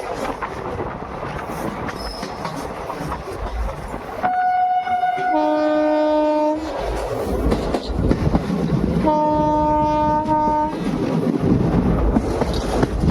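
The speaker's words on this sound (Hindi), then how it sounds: "अब हमारी ट्रेन शानदार कर्व लेने वाली है।" The 14087 Runicha Express passenger train rounds a curve near Ringas Junction, its steady rumble and wheel clatter overlaid by two long multi-tone horn blasts, heard from on board.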